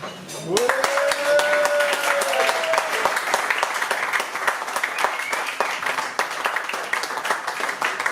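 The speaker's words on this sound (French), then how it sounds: "J'aimerais vraiment, s'il vous plaît, que l'on applaudisse très très fort Lucie." Concert audience applauding loudly for Lucie, a pianist, sustained dense clapping close by for several seconds, with a brief voice and sliding tones at the start.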